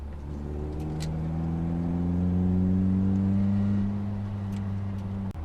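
Toyota MR2 with a 4A-GE engine runs close by in a steady, loud drone whose pitch climbs slowly and then holds, with no talking over it.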